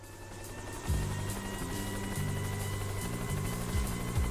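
Helicopter in a video game, a low droning engine and rotor hum that rises in loudness after a moment and then holds steady with a rhythmic pulse, moderately close.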